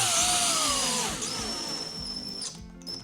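A power drill drives screws into a slam latch on a Fuso FG truck, its motor whining loudly up front and easing into a lower, slowing pitch as the screws seat, then dropping off near the end.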